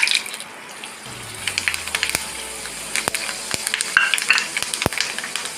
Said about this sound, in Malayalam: അതിൽ 2 സ്പൂൺ എണ്ണ വീത്തിൻ്റെ അതിൽ ഞാൻ 1 സ്പൂൺ ഉലുവ ഇടണം.